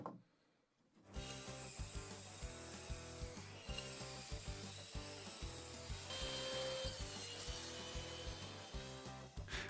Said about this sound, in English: I grabbed some scraps and ripped them down on the table saw for the first glue up.